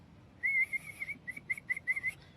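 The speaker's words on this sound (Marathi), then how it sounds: "शिट्टी वाजवतो मी." A person whistles to call a sparrow: one sustained high note, then a quick series of short, sharp chirping whistles, close and clear against quiet surroundings.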